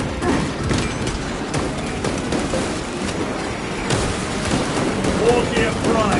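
Heavy bombardment and gunfire roar through a battle in Warhammer 40,000: Space Marine 2, with a dense, continuous barrage of booms and crackling shots and voices mixed into the din.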